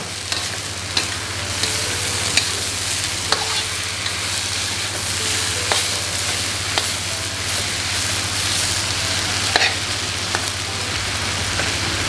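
Salted fish sizzling and frying in a pan while being stirred, with a steady loud hiss and scattered scraping clicks of the utensil throughout, no talking.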